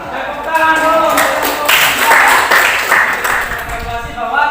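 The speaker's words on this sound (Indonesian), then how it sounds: "Tepuk tangan dulu." Applause from a small group, a dense patter of claps lasting several seconds at steady loudness, with some voices mixed in.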